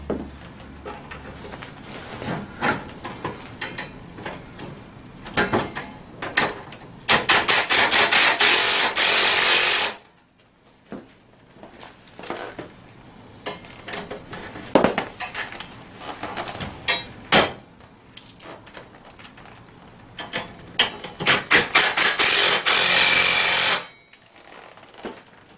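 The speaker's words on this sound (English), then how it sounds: "It's a 10mm ratchet." Ratchet work on a 110 mini ATV during assembly: a 10mm ratchet spins and clicks as bolts are started, giving bursts of rapid ratcheting rasps with short pauses between them, close and fairly loud.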